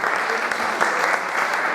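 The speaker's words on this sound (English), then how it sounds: "Yes, round of applause, please." Steady applause from a small cabaret audience at Mother's Ruin, a dense even patter of many hands clapping close by with no voices over it.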